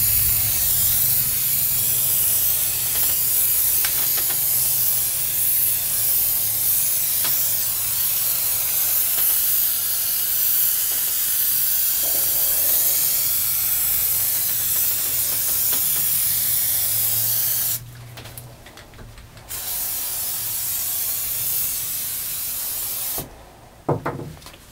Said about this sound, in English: Although the can doesn't like to be sprayed that direction.